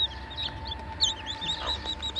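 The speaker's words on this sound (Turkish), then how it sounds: "civcivlerin bir kısmı çıktı hatta bakın bu yeni çıkmış" Steady high-pitched peeping from newly hatched Gurk chicks, repeated rapidly over a low steady hum.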